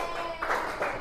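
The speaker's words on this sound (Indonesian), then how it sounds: "kita beri tepuk tangan juga untuk kelompok 3" A classroom of students claps for a presenting group, a short burst of applause at moderate volume that swells briefly twice within about a second.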